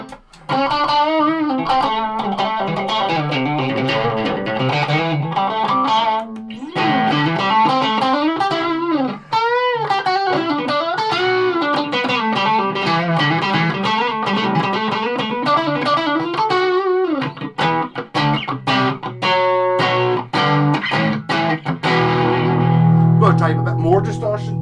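An electric guitar plays through the distortion channel of a Blackstar HT-5 amp, giving sustained, gritty, heavily driven notes and bends with a few short gaps, loud and close, ending on a held chord.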